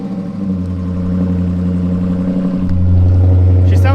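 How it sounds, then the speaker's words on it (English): A Dodge Challenger T/A 392 rumbles at a loud, deep idle close by, its exhaust note swelling louder near the end. "Let's start the car and get there together."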